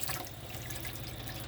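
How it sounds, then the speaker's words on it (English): Water running steadily from the taps of a 2013 Swift Freestyle S6 TD caravan, a continuous close rush of flowing water with no talking. "So as you can see, now the water's running continuously."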